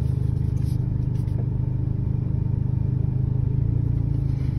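A car makes a slow turn at a gas station in Carol Stream, Illinois, its engine a steady, close, low hum with faint road noise and no talking.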